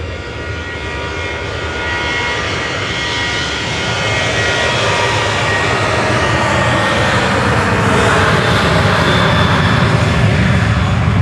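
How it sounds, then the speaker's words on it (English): A TUI Boeing 737-800 departs Manchester Airport for Palma de Mallorca, its jet engines a loud, sustained roar that swells gradually, with a rising whistle as the aircraft climbs away. "That was TUI flight 2606 heading over to Palma de Mallorca, GTAWZ departing at 737-800."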